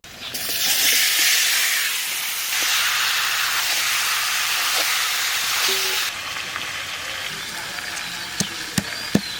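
Ginger, garlic and fish frying in hot oil in a Bengali home kitchen, a loud steady sizzle and hiss filling the clip, easing slightly partway through, with a few sharp clinks of a utensil near the end.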